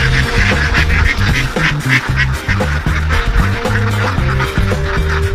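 A flock of ducks grazing in a harvested rice field quacks loudly and continuously, many overlapping calls close by with no talking.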